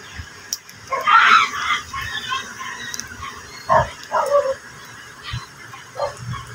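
A rooster among pet chickens gives a few loud, close calls and clucks over a steady outdoor background, in short separate bursts spread across the scene, without talking.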